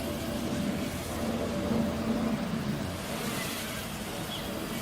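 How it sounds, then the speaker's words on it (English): Strong outdoor wind buffets the microphone in a steady, broadband roar with gusty swells, heard where a small WiFi FPV quadcopter is being test-flown in open air. "I think the wind is at least as strong as yesterday"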